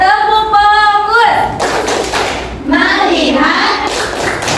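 A classroom of children performs a rhythmic clapping routine led by a teacher, bursts of hand claps and thumps mixed with chanting voices, loud and close.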